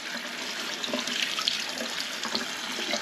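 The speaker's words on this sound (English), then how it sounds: "Rinse it in cold water, not hot water, not warm water, but cold water." Cold tap water running over tomatillos being rinsed in a sink, a steady close splashing stream with small irregular spatters and no talking.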